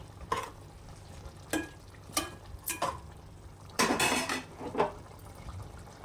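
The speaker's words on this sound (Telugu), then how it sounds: "ఇలా ధనియా పౌడర్ అంతా ఒకసారి కలయి పెట్టుకొని" Coriander powder being stirred into a thick mutton curry in a pot, a series of separate scraping and sizzling strokes at close range with short pauses between them, no voices.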